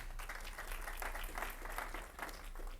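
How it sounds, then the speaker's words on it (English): Audience applause at a talk: steady, dense clapping from a crowd, fairly distant and soft, continuing throughout without voices. "everyone who applauded"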